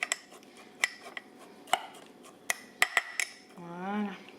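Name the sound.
mixing oat flakes with milk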